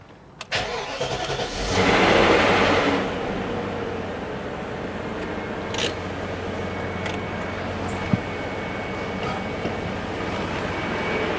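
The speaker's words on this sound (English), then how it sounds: "I'll start the car up and let's hope we don't get any horrible noises from the gearbox" A BMW X5 4.6is with a slipping ZF5HP24 transmission, raised on a hoist, cranks with a short starter whirr and catches into a loud surge, then settles into a steady close idle with small clicks and no voices.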